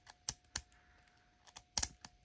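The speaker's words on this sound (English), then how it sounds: "Let's see if we can't do a McNally here where he rakes the pins." Scattered sharp metallic clicks and taps, a few isolated then a quick cluster, as a pick rakes the pins of a Brinks high security lock, close and fairly quiet.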